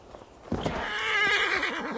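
A horse in the video game Assassin's Creed Valhalla lets out a loud, wavering neigh lasting over a second, with a fainter hoof scuff just before it.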